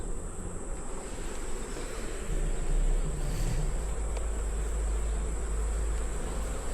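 Honeybees hum during a hive inspection as frames are handled, a faint, continuous buzzing of many insects close by with no break in the drone.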